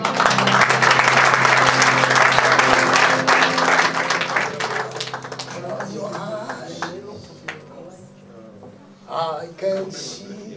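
A church congregation applauds loudly and steadily for several seconds, then the clapping thins out as voices and scattered claps take over.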